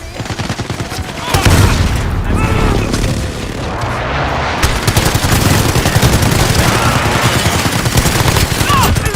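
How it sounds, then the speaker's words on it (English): A precision airstrike in a multiplayer shooter game's hardpoint match sets off sustained booming explosions and rattling gunfire, loud and dense throughout, with a brief lull before the barrage resumes under faint game voice lines. "Be advised, friendly precision airstrike inbound."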